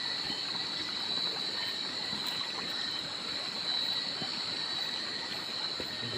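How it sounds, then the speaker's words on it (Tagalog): Constant rushing of strongly flowing water, a steady loud roar with no pauses and no voices. "medyo malakas yung tubig ngayon bro"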